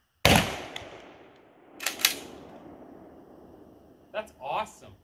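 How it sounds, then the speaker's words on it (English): A Wolverine XP .410 shotgun fires a 3-inch shell outdoors at a range: one sharp, loud blast with a short decay, followed by mechanical clicks and brief voices. "I'm going to see how a 3-inch shotgun shell feels in my Wolverine XP shotgun."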